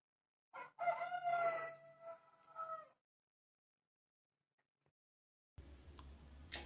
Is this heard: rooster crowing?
yes